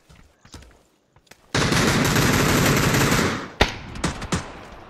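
A long automatic burst of gunfire from a shooting video game rattles for about two seconds, loud and continuous, followed by a few scattered single shots and thuds.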